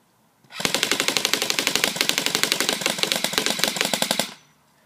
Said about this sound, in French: Et là, je vais faire un full auto juste après.